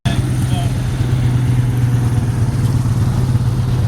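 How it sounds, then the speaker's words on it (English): Modern tractors drive past at an agricultural field day, their engines a loud, steady low hum and rumble that continues throughout, with a voice talking over the noise. "Got some modern tractors coming along"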